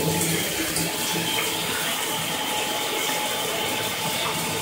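Water sprays from a DreamSpa LED shower head in a steady, close, rushing stream that stays even from start to finish.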